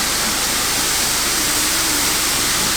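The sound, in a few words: water pouring down the camper van window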